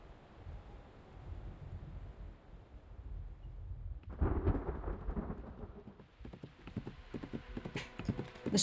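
A striped horse with a red mane charges through pouring rain, hooves clip-clopping in a quickening rhythm over a steady wash of rain and low rumbling thunder, growing louder and busier toward the end.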